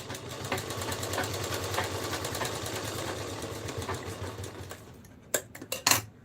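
A sewing machine stitches lace onto fabric for a baby Krishna dress, humming in a steady fast rhythm close by, then stopping, followed by a few sharp handling clicks.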